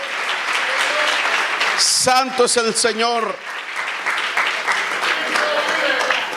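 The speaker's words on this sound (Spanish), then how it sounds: "Denle un aplauso fuerte a Cristo." A church congregation claps loudly and steadily throughout, with a voice speaking briefly over the applause midway.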